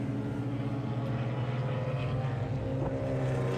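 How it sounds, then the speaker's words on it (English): An open-throttle BMW V8 race car drones steadily at close range as it runs down the pit lane at a road-racing event at Mid-Ohio. "one of the open throttle BMWs comes down the pit lane"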